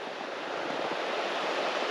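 A small creek or rivulet below a dam gives a steady, even rush of flowing water, close and unbroken, with no voices.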